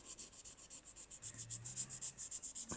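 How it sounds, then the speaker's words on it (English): Milliput filler putty is sanded smooth on a glazed sugar bowl, giving faint, rapid, rhythmic back-and-forth rasping strokes, close up and quiet, with no talk. "So, sanding."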